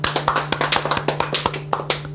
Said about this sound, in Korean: 하나님 앞에 영광의 박수 드립시다.